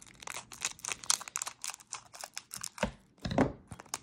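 Scissors cut open a Pokémon Rebel Clash card pack, with close crinkling foil and a couple of sharper snipping and tearing sounds near the end. The sounds come in quick, irregular bursts.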